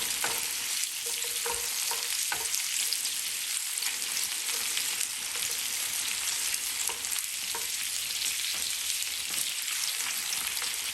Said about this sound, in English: First thing we're going to put in is the garlic cloves.